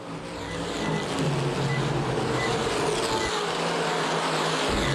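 Street stock race cars roar around Winchester Speedway during a championship race, a continuous loud engine drone that swells up at the start and holds steady with a pack of cars running close together.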